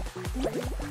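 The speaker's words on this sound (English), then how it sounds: "Hear the bubbling sound" Fall Guys game bubbling: a short run of close, gurgling, dripping pops with wobbling pitch, several quick bloops in a burst.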